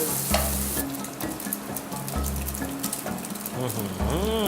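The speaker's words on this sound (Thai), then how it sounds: "เบคอนที่เราต้องผัดอย่างนี้" Bacon stir-fries in a hot pan toward crispness, a loud continuous sizzle broken by repeated scraping stirs, with a brief murmured voice.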